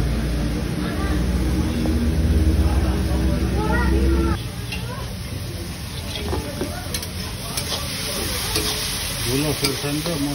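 Mushrooms fry in a pan with a steady sizzle while being stirred, giving scraping and shuffling sounds close up; the sizzle is louder at first, then settles lower.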